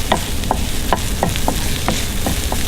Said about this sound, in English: Just going to keep it moving so that the garlic doesn't catch and burn.